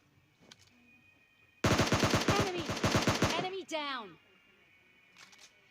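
Automatic gunfire in PUBG Mobile Lite rattles out as a rapid, loud burst of shots lasting about two seconds, followed by a falling whoosh and quieter sounds around it.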